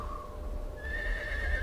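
A horse neighs in the Sacred 1 Gold fantasy role-playing game: a high whinny with a falling pitch opens the clip, and a second, longer whinny follows. Both sound moderately loud and close, and no one speaks.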